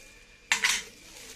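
A single brief clink and scrape of a utensil against a bowl while mixing a pork marinade of curry powder and soy sauce, close and quiet against a still background.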